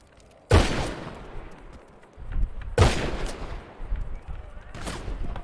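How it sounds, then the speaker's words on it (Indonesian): Gunshots in a roleplay video game: three loud, sharp reports spaced about two seconds apart, each with a short echoing tail, over quieter background game sound. "Siapa yang tembak itu?"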